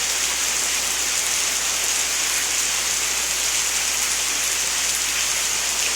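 Dense, heavy rainfall hisses continuously and evenly throughout, loud and close, with no voices or other sounds breaking through.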